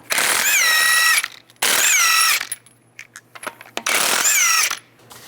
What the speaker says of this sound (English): take the lug nuts off using a 21mm socket